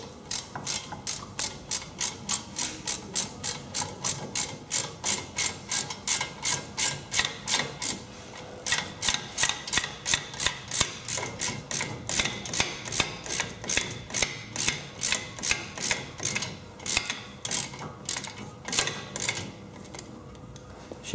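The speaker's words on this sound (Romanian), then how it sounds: "Se strâng cele două șuruburi cu imbus de 7, cricket și tubulară de 10." A ratchet with a 10 mm socket tightens the brake caliper bolts on a VW Golf 5 (Mk5) during a front brake pad change, clicking in rapid, steady bursts of pawl ticks with brief pauses between strokes.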